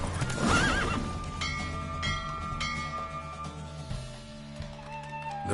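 A horse in The Witcher 3 video game gallops through a race, its quick hoofbeats mixed with a whinny near the start, all set in a steady game soundtrack.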